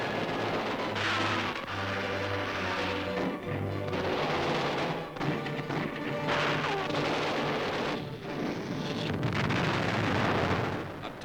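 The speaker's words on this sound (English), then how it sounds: "A tank hits a Japanese mine." A tank hits a Japanese land mine in a narrow ravine during wartime combat, heard as a continuous, heavy roar of explosions and rumbling blasts with gunfire-like crackling throughout, loud and dense in an old archival recording.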